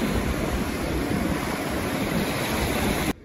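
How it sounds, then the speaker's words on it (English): Huge sea waves crash on a shore during a double tide. The roar of surf is loud and steady and fills the whole clip, then cuts off abruptly at the end. "There you can see the huge waves crossing over."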